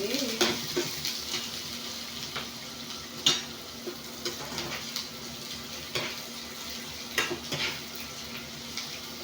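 Vegetables and garlic sauté in a home pan as part of a Filipino vegetable dish with anchovies, giving a steady soft sizzle with scattered spatula taps and clicks throughout, no talking.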